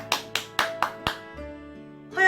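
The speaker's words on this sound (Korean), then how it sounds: "그래서 그는 다시 박수를 쳤다." Five sharp hand claps in a steady, even rhythm, close and crisp, each with a short decay, followed by a quiet pause with a low hum underneath.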